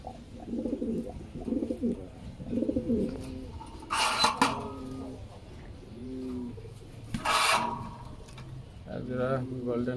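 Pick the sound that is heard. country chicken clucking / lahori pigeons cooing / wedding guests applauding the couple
lahori pigeons cooing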